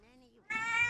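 A pet cat named Raven gives a loud, close meow in the second half, after a soft drawn-out voice at the start.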